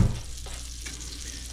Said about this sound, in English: Oh, that onion's starting to bubble already over there.